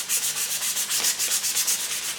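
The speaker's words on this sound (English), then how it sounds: "I use a sanding sponge to get in the gaps to break the edges." Rhythmic hand sanding of a wooden lamp with a sanding sponge, a brisk back-and-forth scratchy rasp repeating about five times a second, close and steady.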